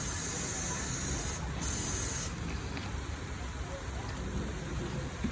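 Steady rain pours down in a thunderstorm after a dry spell, a dense, even hiss at moderate distance with no clear thunder.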